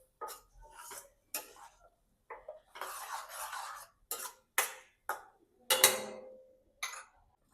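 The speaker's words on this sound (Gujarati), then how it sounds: "હવે આપણે ટામેટાની ગ્રેવી એડ કરીશું." Tomato gravy goes into a cooking pan with a run of short metal clinks and scrapes from a spoon against the vessel, about a dozen separate bursts in a quiet kitchen.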